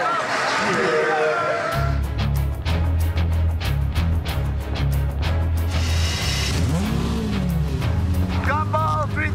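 A car in the Gumball 3000 rally drives off with a loud, steady engine drone and low rumble, mostly masked by loud shouting and excited voices throughout.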